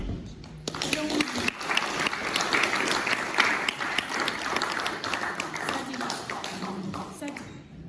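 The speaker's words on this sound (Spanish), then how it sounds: "Quiero pedir un enorme y afectuoso aplauso para ella" Audience applause fills a room at a book launch event, steady dense clapping that rises and holds for several seconds before tapering, with a few voices faintly underneath.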